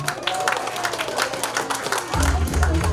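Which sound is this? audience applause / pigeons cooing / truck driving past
audience applause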